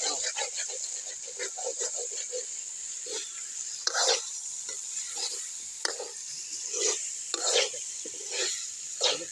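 Meat being stirred in a pot over an outdoor cooking fire on a riverbank in Tangail, Bangladesh, with repeated scraping strokes and a soft frying hiss, close by, while people talk around it.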